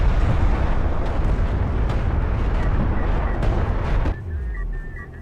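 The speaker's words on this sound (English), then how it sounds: "it's a double barrage into that same location" Double artillery barrage in the Deserts of Kharak strategy game, a dense continuous rumble of overlapping explosions and pops that fills the scene loudly for several seconds, then cuts to quieter ambience with a faint tonal hum.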